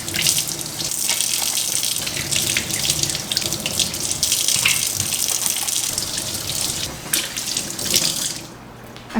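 Tap water runs steadily into a sink while raw oysters are rinsed under it, a close, continuous splashing rush that cuts off near the end.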